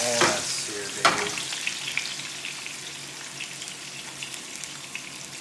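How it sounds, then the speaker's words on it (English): Meat sears in a hot pan on a gas stove with a loud, steady sizzle throughout, marked by a couple of sharp crackles and spatters near the start. "Make sure we get all that seared, baby."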